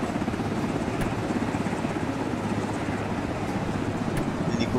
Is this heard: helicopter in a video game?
yes